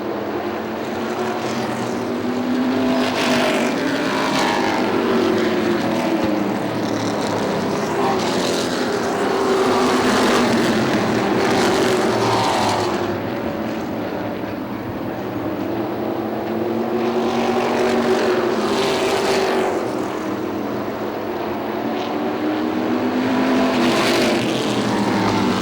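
Modified race cars circling the Motordrome Speedway oval during a feature race, a loud, continuous multi-engine roar that swells and fades as the pack sweeps past, with no pauses.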